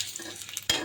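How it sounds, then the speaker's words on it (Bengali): Nigella and cumin seeds hit hot oil with browned onion and garlic, a close, steady sizzle with light stirring scrapes and a brief louder burst near the end. "এখানে আমি এখন একটু দিয়ে দিচ্ছি কালি জিরা আর হচ্ছে জিরা"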